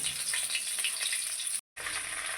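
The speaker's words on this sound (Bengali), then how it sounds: "মাছের 2 পিঠ ভাজা হয়ে গেছে, এবার মাছগুলোকে তুলে নেবো। এইভাবে বাকি মাছটাও ভেজে নেব।" Gurjali fish sizzling in hot oil in a pan, a steady close crackle and hiss that drops out for a moment before resuming.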